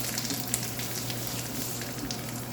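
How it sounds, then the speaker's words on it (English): Blended rasam ingredients roast in hot oil in a pan, a steady close sizzle and fry hiss that runs evenly throughout with no voices. "so I'm roasting it here in the oil"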